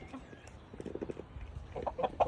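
Soft hen clucks and barnyard fowl sounds, a few short bursts toward the end, amid low background rustling and noise.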